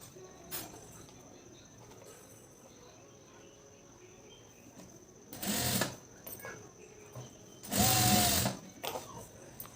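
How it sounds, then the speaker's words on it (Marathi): Two short bursts of a sewing machine stitching cloth over a sleeve joint, the second slightly longer, separated by quiet room noise with faint ticking. "असंच मशीन फिरवत आपण जिथं जॉईंट दिलेला आहे त्याच्यावर सुद्धा मशीन घ्यायची आहे"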